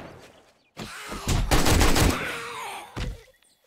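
Rapid gunfire in the zombie survival game 7 Days to Die, a loud burst of closely spaced shots followed by a separate single shot, with a groaning creature faintly underneath.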